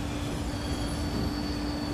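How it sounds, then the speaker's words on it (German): A train in Transport Fever 2 rolling onto its track through a double crossing switch, giving a steady, even rumble with a faint high squealing tone running throughout. "Deswegen kann der Zug auch direkt auf sein Gleis fahren."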